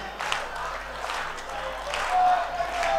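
Audience clapping at a Hindi poetry gathering (kavi sammelan) for a Maha Shivratri festival in Beawar, a moderate, steady patter of applause from a crowd with some voices mixed in.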